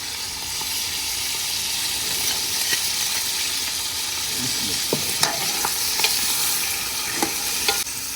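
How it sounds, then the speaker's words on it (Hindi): Ginger frying in a karahi for chicken karahi gives a constant loud sizzle, with a few light spoon scrapes and taps scattered through it. "अब इसमें ऐड करेंगे अदरक।"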